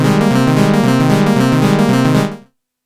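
A sustained synth pad chord from a Prophet Rev2, its LFO running free without key sync, pulses in a fast, slightly uneven rhythmic flutter, loud and steady, then cuts off abruptly after about two and a half seconds.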